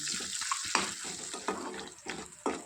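Dried fish frying in a pan, with a bright, close sizzle broken by several sharp scraping stirs at irregular intervals.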